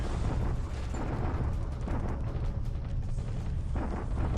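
Continuous rumbling bombardment explosions at Clark in a Pacific war strategy video game, a dense, loud roar of overlapping blasts with no pauses.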